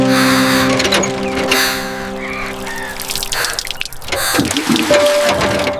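Cold water splashing and running during washing in a village, with close trickles, drips and sloshes and a few louder splashes in between.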